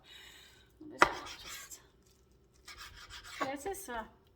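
A knife chops fatty beef on a board for stroganoff, a few sharp isolated cuts with scraping and rubbing between them, fairly close and quiet.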